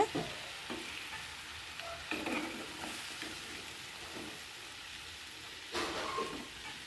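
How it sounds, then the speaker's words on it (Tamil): Amla pickle being stirred with spice powder, giving soft, steady scraping and mixing noise throughout with a few louder stir strokes, close and without voices. "நெல்லிக்காய்க்குள்ளே நல்லா இறங்குற வரைக்கும் நல்லா கிளறி விடுங்க."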